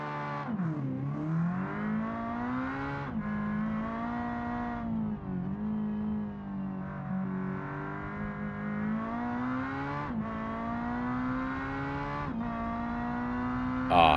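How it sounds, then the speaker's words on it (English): Le Mans GTE race car in a racing video game, engine revving up and down through repeated gear changes with a high transmission whine riding on top, loud and close, with no talk. "let's get that gearbox whine in"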